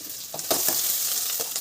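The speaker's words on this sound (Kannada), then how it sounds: "ಬಾಂಡಿ ಎಣ್ಣೆ ಹಾಕಿದ್ದಾರೆ ಈಗ ಒಗ್ಗರಣೆಗೆ ಅದು ಶುಂಠಿ ಬೆಳ್ಳುಳ್ಳಿ ಪೇಸ್ಟ್" Ginger garlic paste sizzles in hot oil in a kadai for tempering while cooking momos, a loud, continuous hissing fry with a few soft stirring scrapes close by.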